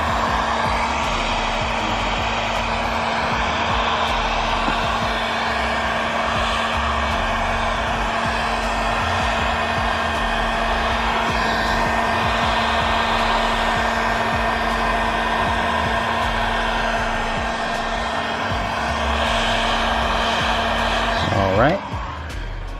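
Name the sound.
heat gun warming Honda Civic grille on low temp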